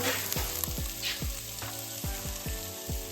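Flour stirred into a sizzling pan for an easy home-cooked dinner gives a steady close frying hiss, with repeated scraping strokes about every half second.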